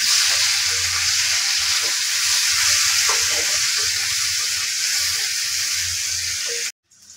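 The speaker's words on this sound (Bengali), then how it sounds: "তেলের মধ্যে গরমের পেঁয়াজের কুচি আর মরিচের কুচিগুলো আমরা দিয়ে দিছি।" Chopped onion and chili sizzle loudly in hot oil while cooking a cauliflower and potato curry, a steady dense frying hiss with soft stirring bumps underneath that runs unbroken until it stops abruptly near the end.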